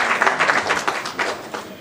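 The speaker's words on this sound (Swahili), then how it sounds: "Asante sana, makofi akikaribishwa kwenye chama" A crowd at a political party rally applauds new members joining the party, a short burst of dense, fairly close clapping with no talk over it.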